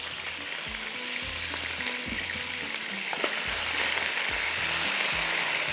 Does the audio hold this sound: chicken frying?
yes